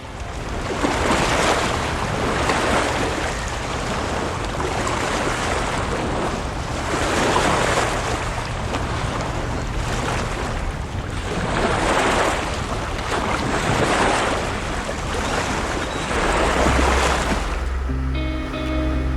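A motorboat cruises on the Maas river in the Netherlands, a steady engine drone under heavy wind buffeting and rushing water that swell and ebb in slow surges. Loud and continuous for nearly twenty seconds, with no speech.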